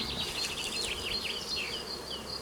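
Honeybees in a crowded colony buzz around an open hive, a steady close drone with individual bees whining past in shifting pitch. No voices are heard.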